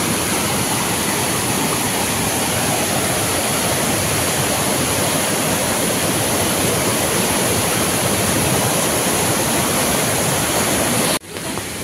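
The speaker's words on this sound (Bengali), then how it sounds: "কি জোরে জলটা নামছে দেখো।" Water pours down forcefully in a loud, unbroken roar near a rain-soaked temple stairway at Panchalingeshwar, steady throughout with a brief dip near the end.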